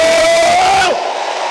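A church congregation cheers and acclaims in a loud, dense roar, with one sustained shouted voice rising above it before the noise cuts off sharply after about a second, leaving a quieter hum.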